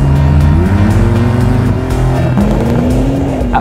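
A Porsche on studded tires driving on an ice track in Finland, its engine droning loud and steady with shifting pitch and brief tire squeal, close and continuous without talk.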